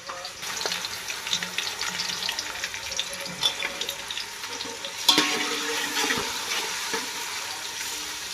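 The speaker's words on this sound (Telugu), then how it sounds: "ఉల్లిపాయ పచ్చిమిర్చి బాగా ఫ్రై అయిపోయినాయి." Onion and green chillies frying in a pan, a steady, close sizzle with soft crackles and occasional stirring scrapes, one louder burst of spitting about midway.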